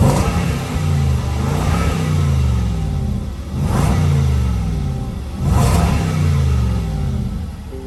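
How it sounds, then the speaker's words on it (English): Loud revving from the supercharged V8 of a 2021 Jaguar F-Pace SVR, three sharp blips each rising then falling back to idle, close and clear with no talk. "So I'll just give you an idea of what it sounds like now"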